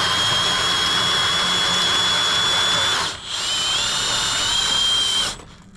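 A brushless drill spins a GEN-Y Mega-Duty 32k drop hitch trailer jack to lift, a loud high motor whine that dips briefly, resumes and then stops, with no talking.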